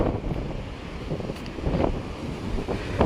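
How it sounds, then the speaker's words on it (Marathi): Strong wind buffets the microphone on a Konkan sea shore while waves break and wash in close by, a continuous roaring rush with surges. "मरणाचाच वारा आहे, लाटाचं तुफानच होत."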